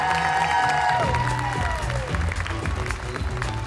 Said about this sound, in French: Je vous demande un tonnerre d'applaudissements pour Carole Malien